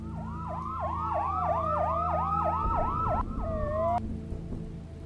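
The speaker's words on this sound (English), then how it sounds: "The sirens are getting closer" Emergency sirens wail in a fast, repeating up-and-down pattern that stays loud and steady, then shifts to a slower tone near the end, with no one speaking.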